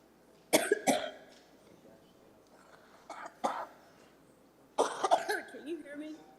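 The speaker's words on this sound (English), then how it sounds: "you know that cough I just had?" A woman coughs several times in short bursts during a city council meeting, the coughs close and sharp, separated by quiet gaps, with a throat-clearing sound among them.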